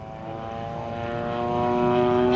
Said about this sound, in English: Engine's running pretty good.